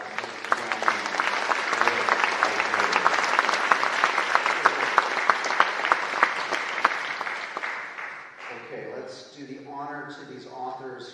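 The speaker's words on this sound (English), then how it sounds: "So let's have a big round of applause." An audience at a writers' awards ceremony breaks into loud, sustained applause that fills the room for about eight seconds, then dies down as a speaker resumes talking.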